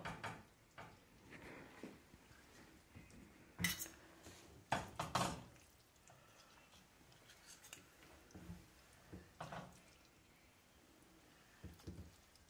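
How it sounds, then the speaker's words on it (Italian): Utensils clink and scrape against dishes while fettuccine alla papalina is plated, a run of close, sharp metallic taps and clatters with quieter handling between them and no talking. "Ora impiattiamo."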